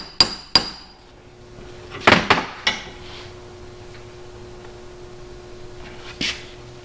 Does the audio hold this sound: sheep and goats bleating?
no